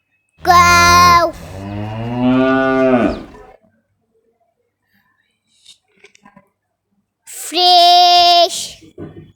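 Two drawn-out moos from a cow, one long call followed by a lower second one, then a pause with faint clicks and another loud moo near the end.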